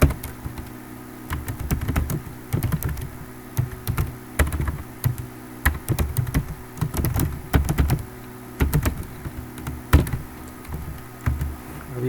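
Code being typed on a computer keyboard during a Python lesson, with irregular bursts of crisp, close key clicks and short pauses between runs of keystrokes.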